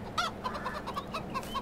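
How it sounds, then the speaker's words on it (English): Chickens in an overgrown farmyard give a quick series of short, bright clucks and squawks, close by and fairly loud, over a low background hum. "Oh, we can even see the chickens now."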